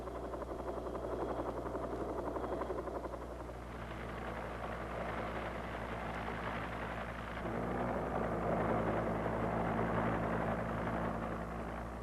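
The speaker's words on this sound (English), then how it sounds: "armed helicopters, such as this Cobra AH-1G, present additional dangers through their weapons systems" Steady rotor and turbine drone of a Cobra AH-1G armed helicopter, loud and continuous with a throbbing low hum and broadband whine throughout, no voices.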